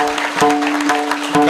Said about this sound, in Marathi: तरी एकदा अपेक्षा आहे महिला वर्ग जोरदार टाळ्या होऊनच जाऊ द्या.